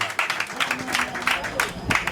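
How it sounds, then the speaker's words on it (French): Applause at a civil wedding ceremony held at the town hall in Songon: a short burst of clapping from the gathered guests, with voices talking over it. "Non, mais ça s'applaudit."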